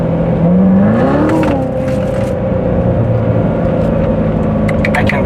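A 2016 Corvette Z06 accelerating in manual mode, the engine note climbing in pitch and then holding a steady drone, loud and close from inside the car, with no talking.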